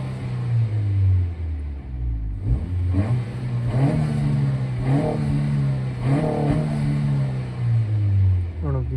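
A 2022 Honda Civic Si with a resonator delete revs up repeatedly at close range, rising and falling in loud bursts over a steady idle rumble.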